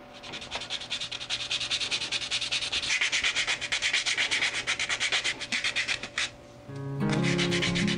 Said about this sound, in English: I think I can sand it nice and round and smooth